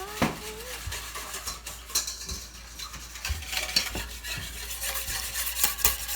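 A spoon stirs a shortcut butter chicken mixture in a pot, scraping the sides and bottom with soft repeated clinks and scrapes, close and moderate in volume, alone without talk.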